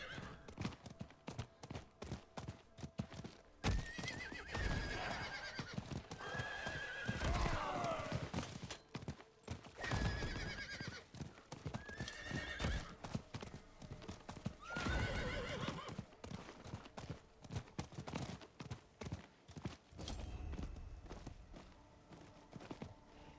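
Steady clip-clop of horse hooves continues throughout, with several neighs and whinnies rising over the hoofbeats in the video game Diablo 4; a voice talks now and then.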